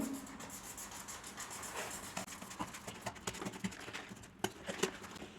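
Paper cutout of a bear drawing being cut with scissors, soft close-up snips and rubbing paper sounds repeating irregularly over a low steady background hiss.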